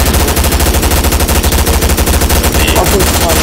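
Rapid, continuous automatic gunfire in a video-game battle between Combine and Rebels, loud and close, a dense unbroken stream of shots with no pauses.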